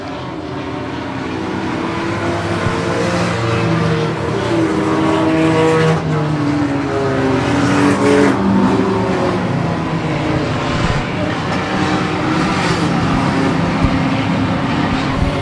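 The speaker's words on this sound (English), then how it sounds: "Watch that number 12 car, Ken. He's got some giddy up" Race cars roar around a track during an enduro race, engines droning loudly and steadily with rising and falling passes and no voices.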